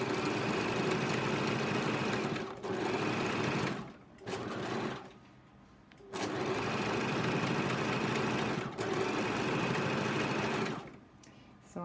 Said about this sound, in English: I'm sewing quite quickly there just for demonstration purposes